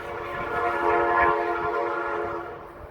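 A train horn blares loud and sustained as a train passes, swelling and then slowly fading, with faint rumbling underneath and no voices.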